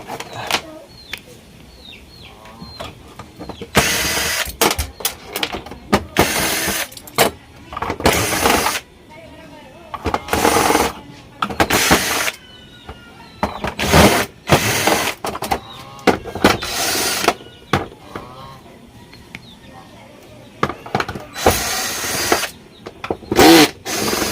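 Power drill removing screws from the back casing of a TCL TV, a repeated whine in short bursts of a second or two with pauses between them, close and loud.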